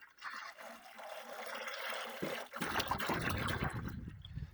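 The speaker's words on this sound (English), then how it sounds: "whatever's left in the bucket, I'll just funnel back into some of these jugs" Dexcool coolant pours from a bucket through a funnel into jugs, starting as a thin trickle and then swelling into a fuller, gurgling flow that is close and fairly quiet.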